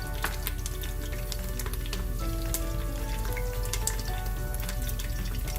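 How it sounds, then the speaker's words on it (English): Whole spices frying in hot oil in a pan as the base for a South Indian-style chicken curry with fennel and coconut milk, a steady close sizzle with small crackles and pops throughout, no talking. "And after that we're adding whole spices."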